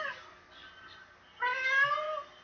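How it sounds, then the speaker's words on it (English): A cat meows twice, a short cry followed by a longer, louder, drawn-out meow. It is close and clear against a quiet background. "Man, I've got a mad cat"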